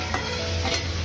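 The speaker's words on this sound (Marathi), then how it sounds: "आणि परत एकदा चांगले परतवून घेणार आहे" Capsicum (shimla mirchi) with roasted peanut powder is stir-fried in a pan, giving a continuous close sizzle with soft scraping stirs and no voices.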